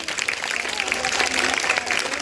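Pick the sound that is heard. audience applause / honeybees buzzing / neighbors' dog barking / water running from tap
audience applause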